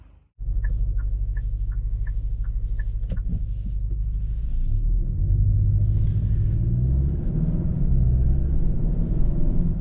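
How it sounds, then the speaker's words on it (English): Steady, loud low rumble of road and engine noise fills the cabin of a 2023 Kia K5 GT with the GT1 package while driving, with a few light ticking clicks near the start. "All right, we are driving in the K5 GT1"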